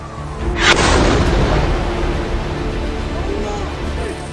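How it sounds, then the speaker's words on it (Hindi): A loud, heavy blast from an attack on a hospital in Gaza during the Israel-Hamas war booms out and then settles into a long rumbling roar with a hiss of debris. "देखिए, जोरदार धमाका होता है, फिर चारों तरफ बर्बादी"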